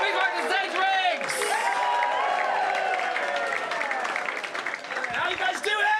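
Comedy club audience at Komedia in Brighton clapping and cheering as a comedian is welcomed on stage, steady sustained applause with whoops, while a voice talks over it.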